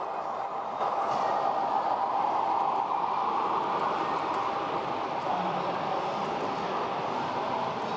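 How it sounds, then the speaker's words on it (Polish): An H0-scale model freight train pulling a long set of wagons runs on a railway layout at a model railway exhibition, giving a steady, continuous rolling rumble with a busy hall murmur throughout. "Ten pociąg towarowy ma najdłuższy skład wagonów."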